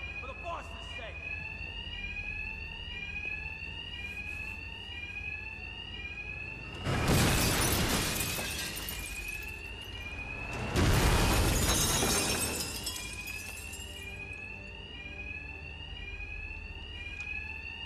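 A bank alarm in the video game Arkham Knight rings on and on in a repeating warbling pattern. Two loud crashes of shattering glass burst through it midway, and the alarm keeps going steadily afterward.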